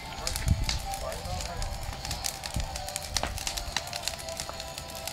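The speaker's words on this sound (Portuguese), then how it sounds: "Maurício, agora que o fogo vai zangar, porque agora é madeira." A wood bonfire for roasting potatoes burns at a rural farmstead. Scattered pops and crackles sound over a soft, steady roar, with voices faintly in the background.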